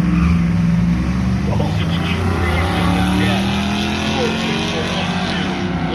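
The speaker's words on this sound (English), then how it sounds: "With a great burnout to start it all out for everybody." A six-cylinder pickup truck does a burnout at a drag strip, a loud sustained engine roar with screeching tire noise running steadily throughout, with speech in the background.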